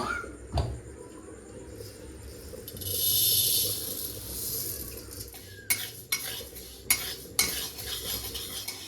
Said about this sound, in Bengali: খিচুড়ির জন্য মুগ ডালটা ভেজে নেব